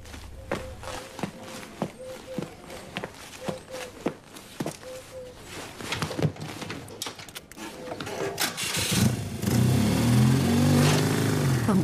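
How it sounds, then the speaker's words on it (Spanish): A motorcycle being wheeled and parked: footsteps and mechanical clicks at first, then the engine starts and runs at a loud, steady idle for the last few seconds. "vete a aparcar bien la moto"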